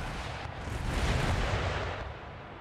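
Howitzer artillery in Empire Total War: a dense, roaring barrage of booming cannon fire that swells in the middle and stays loud throughout the short stretch.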